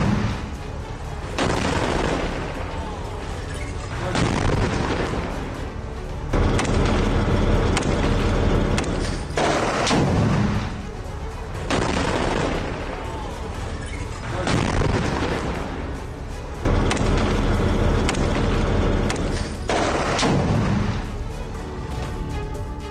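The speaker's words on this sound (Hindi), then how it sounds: "हमास और इजरायल के बीच गाजा में दोनों तरफ से हो रही है भीषण गोलाबारी।" Heavy exchange of fire in Gaza between Hamas and Israeli forces: repeated loud booms and bursts of gunfire and shelling, coming in waves of several seconds each with brief lulls between, no talk.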